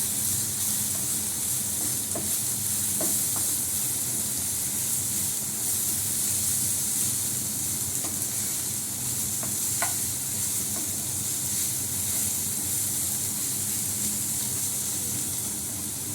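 Food fries in a pan with turmeric and sugar, giving a steady close sizzle and hiss with occasional faint stirring clinks throughout.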